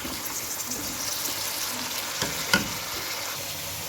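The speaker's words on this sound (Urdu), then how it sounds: "مونگرے فرائی ہو رہے ہیں" Radish pods (moongre) fry in a pan with a steady, loud sizzle and faint stirring scrapes, no voices present.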